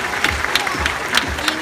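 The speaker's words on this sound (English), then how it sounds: "let's give Tyler a round of applause" An audience at a dolphin show applauds, a continuous wash of clapping with a few louder individual claps standing out, plus some soft low thumps and faint crowd murmur.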